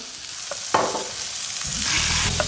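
Onions hit a hot pan and sizzle, with a couple of sharp clatters from stirring before a steady frying hiss builds and holds loud to the end.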